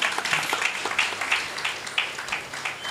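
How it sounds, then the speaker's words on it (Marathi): An audience at a Guru Purnima satsang in Nagpur claps in a brief, moderately loud burst of applause, with individual claps distinct in an uneven rhythm. "वाजवाल का त्यांच्या नावाने टाळ्या?"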